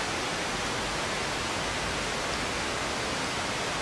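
Steady hiss of synthesizer noise through a gently sloped low-pass filter, broadband and unchanging, moderately quiet and heard alone.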